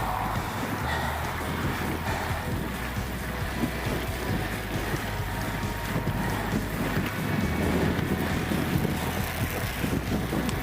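Cold wind buffets a cyclist's microphone during a ride, a loud, constant low rumble and roar with gusty surges, filling the whole stretch without talk.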